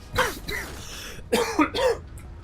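Two short bursts of coughing, the second pair louder and harsher, from a close voice in a quiet room.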